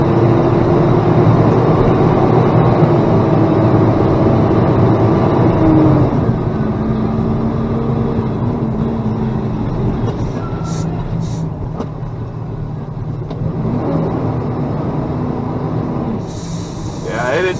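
A car engine strains and drones steadily while nearly stuck in deep snow during a winter storm, with a voice speaking over the low rumble and faint traffic around.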